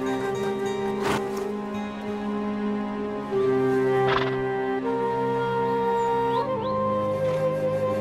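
Yakut horses in the Siberian cold, with tonal neighing and whinnying calls rising over a quiet background, plus a few sharp knocks like hooves.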